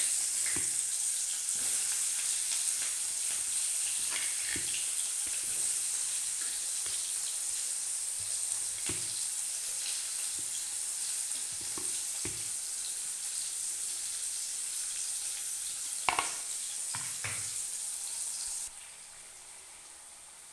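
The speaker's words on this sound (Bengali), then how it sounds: "এবার কেটে রাখা পেঁয়াজগুলো দিয়ে দেব" Chopped onions frying in a pan for a Bengali mutton curry, a soft, even sizzle close by with occasional faint clicks and stirring, fading slightly near the end; no talk.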